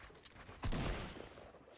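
A short, fairly quiet burst of rapid gunfire in the mobile shooter game Fortnite Mobile, striking sharply and then fading out over about a second.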